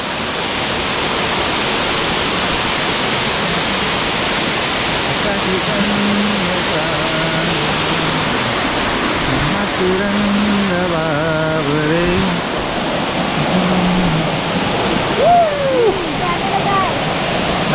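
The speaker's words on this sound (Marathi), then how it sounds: "एकदम स्वच्छ पाणी आहे आणि सुंदर धबधबा आहे" A steady, full roar of falling water from a waterfall with clear water near Asud village in the Konkan, heard in the rain, continuous and close throughout while people talk over it.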